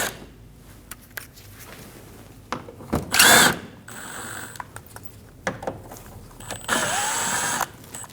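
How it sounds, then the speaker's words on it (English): Power driver with a T25 bit backing screws out from under the bumper corner of a 2012-2022 Volkswagen Passat, giving several short ratcheting whirs with a louder burst near the middle and another toward the end, no voices. "We're going to use a T25 bit and we're going to remove the 3 screws."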